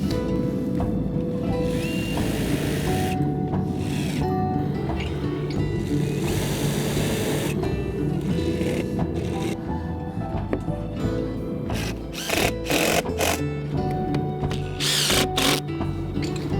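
A power drill driving screws into wood without pre-drilled holes whines steadily under load for most of the clip, then revs in short bursts near the end as it drives in.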